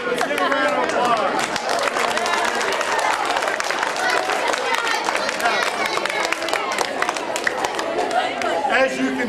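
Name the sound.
audience applause after a science demonstration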